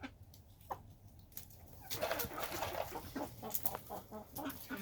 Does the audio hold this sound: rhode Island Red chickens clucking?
yes